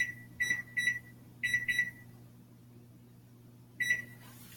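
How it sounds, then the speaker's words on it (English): Digital kitchen timer being set while baking keto bagels and biscuits, giving short bright electronic beeps in quick pairs and triplets, then a pause and one more beep burst, close by over a low steady hum. "So I'm going to put my timer."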